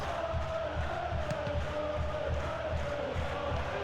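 A stadium crowd in the PES 2013 football game chants and roars during a Trabzonspor versus Beşiktaş derby, a steady rhythmic pulsing chant with a sustained tonal drone, running under the match.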